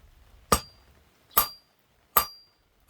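A blacksmith hammers steel on an anvil while forging a candle holder: four sharp, ringing metallic blows spaced evenly about a second apart, each with a bright, lingering ring and quiet gaps between.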